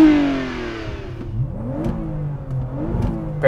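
A 2020 Toyota Camry TRD V6 is revved while parked. The engine drops from a high rev, then climbs and falls in two more quick revs, loud and close, with no voices.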